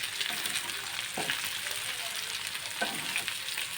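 Fried peanuts being stirred into poha pulao frying in a pan, a soft continuous sizzle with a few distinct scraping strokes of a spatula, quiet and close, no talk.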